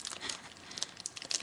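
Crinkling plastic wrapper on a sealed trading card box being pulled open, quick faint crackles and rustles up close, with no talking.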